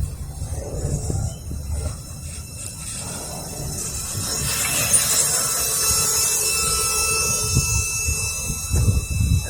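Norfolk Southern freight cars roll past at close range, a continuous loud rumble and rattle with wheel screech and creaking that builds steadily through the middle and holds to the end.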